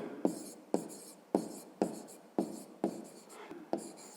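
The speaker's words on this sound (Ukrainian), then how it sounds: "Знову записуємо, що ми перевіряємо. Пишемо." A pen writing by hand on paper while solving a fifth-grade math exercise, with about eight short, crisp scratching strokes at a steady rhythm of roughly two per second. The strokes are close and fairly quiet, with no talk.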